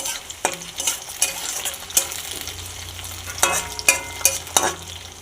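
Onions and tomato fry in a pan with a steady close sizzle, while a spatula stirs and scrapes in several distinct strokes, and no one talks.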